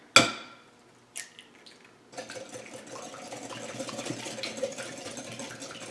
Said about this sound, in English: I'm using 2 eggs. I'm putting them in a separate bowl and then just going to whisk them